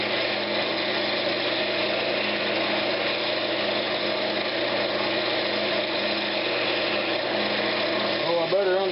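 A wood lathe spins a Brazilian cherry lidded box as its rim is trimmed, giving an even, close motor drone with a steady mechanical whir. A faint rising squeal comes near the end.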